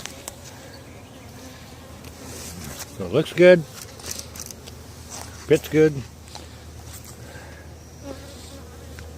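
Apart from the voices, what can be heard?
honey bees buzzing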